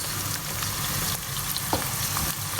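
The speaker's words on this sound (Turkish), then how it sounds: "Biraz da salça ile kavuruyoruz." Onions and tomato paste sauté in a pan with a steady close sizzle, a few soft clicks of stirring scattered through it, for okra stew.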